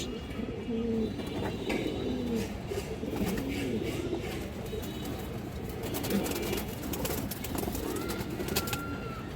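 Pigeons, including a khaki female, coo in soft repeated phrases close by, over a constant dense murmur of a busy pigeon market.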